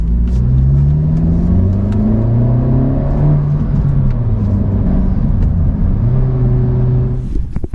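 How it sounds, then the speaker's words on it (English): A 2022 Honda Civic Si pulls through the gears, its engine revving in rising sweeps and gurgling briefly between shifts, loud and close from inside the car, with no voices. "That thing really does like gurgle a little bit in between shifts."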